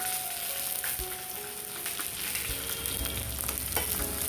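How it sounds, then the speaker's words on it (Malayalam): Mustard seeds and shallots fry in hot oil, a continuous close sizzle with scattered small pops and crackles. "കടുക് പൊട്ടിക്കഴിഞ്ഞു ഉള്ളി കുറച്ച് ഉള്ളി കൂടുതൽ വേണേ ചെറിയ ഉള്ളി തന്നെയായിരിക്കണം വറുത്തിടാനായിട്ട്"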